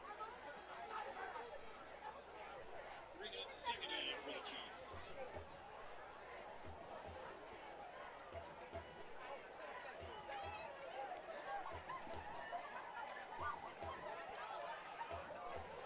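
Crowd noise at a high school football game between the Sequoyah Chiefs and Kell Longhorns, a steady murmur of chatter and scattered voices filling the stands, fairly even in level, with no single loud burst.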